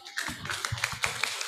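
A small group at a speed-reading training session in West Java claps briefly, a loose patter of individual hand claps rather than a full ovation, fairly close and moderately loud.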